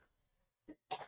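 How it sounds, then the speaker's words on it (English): A lingering cough from someone recovering from COVID, a short throat-clear followed by one louder, rougher cough, close to the microphone. "I just have this like lingering cough"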